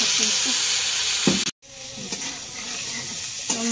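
Green peas and coriander leaves sauté in a cooked spiced masala, giving a loud, continuous sizzle with spatula scrapes, broken by a brief drop to silence partway through.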